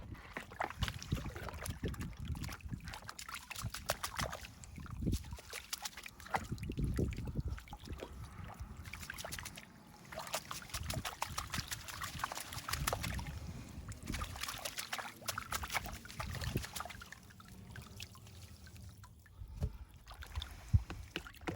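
Gold concentrate is panned in water outdoors on a mountain, with continuous sloshing and swirling water and gritty washing sounds, fairly close and moderately quiet, in uneven surges.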